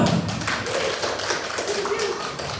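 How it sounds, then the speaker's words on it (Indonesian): A group of teachers clapping their hands at a school session, a brief round of scattered taps and claps, close and moderately loud, with speech mixed in. "Oke, beri tepuk tangan untuk kita semua."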